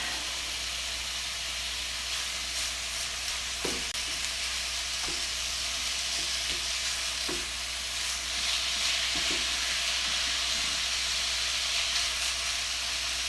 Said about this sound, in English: while my sausage is over here cooking